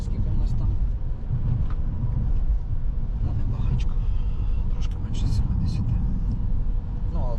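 A car accelerating during a driving lesson in city traffic, with a loud, steady low engine rumble and road noise filling the cabin as an instructor talks over it.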